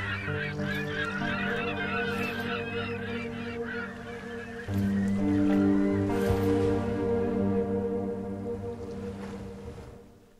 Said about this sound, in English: Seagull! Seagulls!